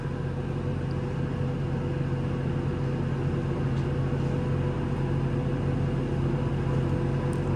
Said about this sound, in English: Sounds like the compressor's running here.